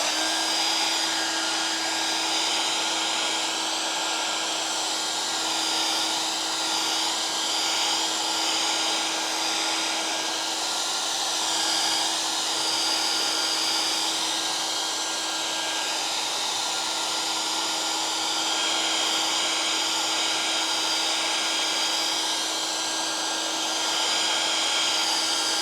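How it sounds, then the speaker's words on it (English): A handheld blow dryer drying a piece of artwork hums steadily and closely with an even, unbroken whir for the whole stretch. "I'm going to use my blow dryer."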